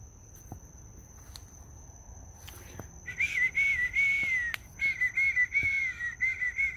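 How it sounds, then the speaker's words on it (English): A low human whistle used to call a raccoon, a series of soft sustained tones with short breaks in between, repeating after a quiet stretch with faint outdoor ambience. "I whistle real low."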